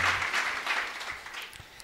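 A church congregation gives a clap offering, a dense burst of applause that starts strong and gradually thins out, with a few sharper claps standing out near the end.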